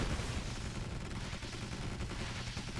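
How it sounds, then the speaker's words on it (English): Dense, continuous machine gun fire from a Yuri-faction strategy game battle, rapid overlapping bursts blending into a loud, unbroken rattle close up with no pauses. "There comes a machine gun rush."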